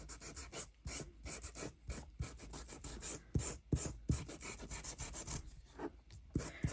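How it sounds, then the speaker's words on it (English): Rough, rhythmic scratchy rubbing strokes, close up, a sanding disc scraping over paper in a junk journal, repeating steadily without any voices. "I'm going to get my sanding disc"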